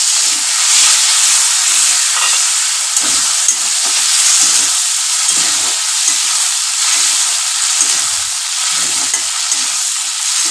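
Potatoes with green chili frying in a pan, a loud, steady, close hiss and sizzle that runs without a break and carries faint stirring scrapes, with no talking.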